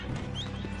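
In the video game Red Dead Online, a bounty hunter horse gives a brief whinny. It is short and fairly close over steady game background noise.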